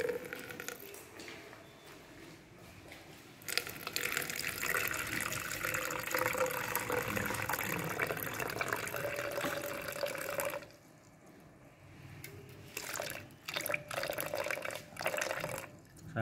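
Water is poured off a sand sample in a container during decantation, a soft continuous splashing and trickling that swells for several seconds, then thins to intermittent drips and small pours.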